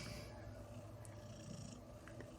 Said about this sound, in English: If you could hear her purring right now